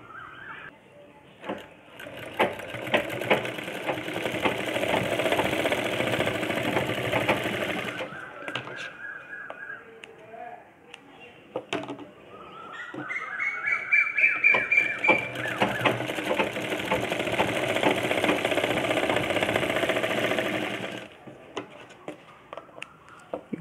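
A sewing machine stitches a blouse sleeve in fast, steady bursts of rapid mechanical chatter, close and loud, stopping and starting again, with brief quieter handling noises and faint squeaks between runs.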